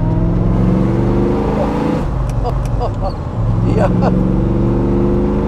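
A 1972 De Tomaso Pantera with a 5.8-litre V8 accelerates hard from inside the cabin, a loud steady low engine roar rising in pitch under a man's speech.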